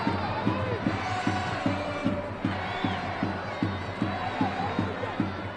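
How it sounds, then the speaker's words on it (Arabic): Football stadium crowd at an Iraqi Stars League match in Duhok, chanting and cheering in a loud regular rhythm of repeated claps and shouts. "اسمع الجمهور، اسمع."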